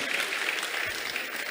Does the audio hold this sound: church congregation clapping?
yes